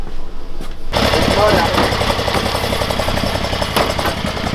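A 670cc Yerf Dog Spiderbox off-road buggy engine cranks over and catches, then runs steadily at a loud, close idle for several seconds after a brief quiet moment at the start.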